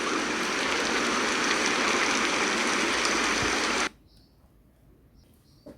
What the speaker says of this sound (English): And take a nap on a summer's day, having rain in the background.